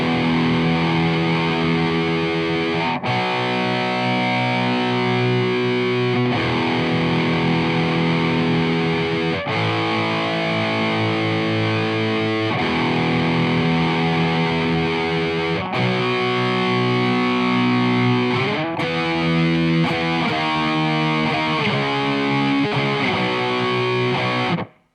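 A distorted electric guitar plays a riff and chords, thick and saturated with effects, driving steadily in repeated strummed phrases for about twenty-five seconds before cutting off, with no voices.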